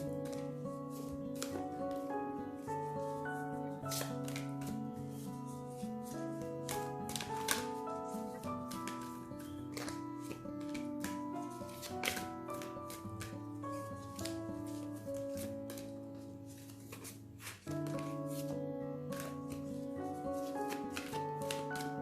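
Continuous riffling and snapping of playing cards being shuffled, close and steady, with a soft musical tone underneath throughout.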